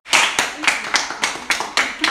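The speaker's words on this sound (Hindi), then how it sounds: "आप भी तालियों से जोश बढ़ाइए उनका।" Audience clapping in a quick, regular rhythm, about eight sharp claps in two seconds, close and fairly loud.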